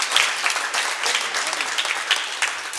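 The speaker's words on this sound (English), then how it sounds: "let's give her a round of applause" An outdoor tennis tournament prize ceremony audience claps together in a dense, steady round of applause lasting the whole moment, moderately close, with faint voices mixed in.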